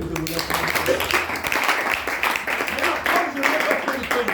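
Applause and clapping from a congregation at a church service, steady and moderately loud throughout, with voices and speech mixed in over the hands.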